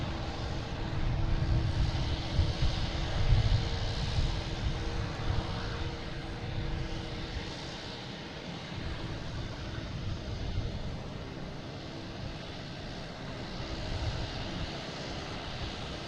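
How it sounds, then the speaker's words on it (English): An Air France airliner taxiing past at Boston Logan produces a broad, continuous engine rush that peaks early and then tapers off gradually. "Air France here passing in review."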